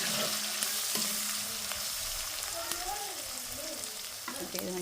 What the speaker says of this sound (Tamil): பெருஞ்சீரகம் எல்லாம் போட்டு தாளிச்சு